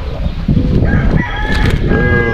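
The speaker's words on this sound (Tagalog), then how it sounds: "Dito rin may ibon. May manok sa loob." A rooster crows loudly and close, a drawn-out call rising and falling, with some clucking and background noise around it, at a campsite in Tanay, Rizal.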